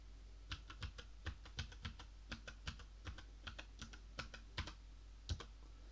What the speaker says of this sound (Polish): Nowa klawiatura SPC Gear.